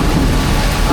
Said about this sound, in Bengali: তো অনেক বৃষ্টি হচ্ছে বাইরে